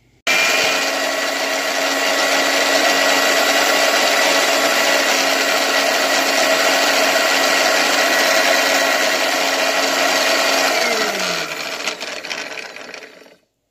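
A blender whirs continuously while mixing face mask ingredients with milk, a loud, close motor drone that holds steady for about ten seconds, then winds down and stops.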